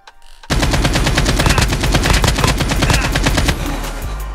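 Loud, continuous automatic gunfire in the Call of Duty Mobile battle royale mode, a rapid burst of shots starting abruptly after a brief quiet moment and hammering on steadily for several seconds, with no talk.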